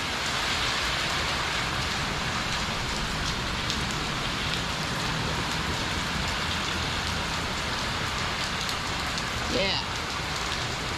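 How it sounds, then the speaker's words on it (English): Heavy rain pours down steadily on surfaces in the Orlando, Florida area, a dense, continuous hiss close by, with voices talking faintly beneath it. "Let it just pour, and we can use the rain."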